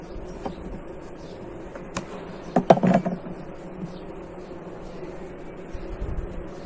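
Honeybees in a horizontal lying hive, worked frame by frame during the honey flow, give a low, steady, faint buzzing hum with a few handling knocks and rustles near the middle.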